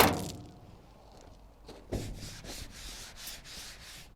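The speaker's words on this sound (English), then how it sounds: "I'm just gonna get a little bit of sandpaper and go along the body lines there where the paint would be really thinning out" Sandpaper rubs by hand along the body lines of an old truck, wearing through its paint in a string of short, quiet back-and-forth strokes after a single bump, close by with no speech.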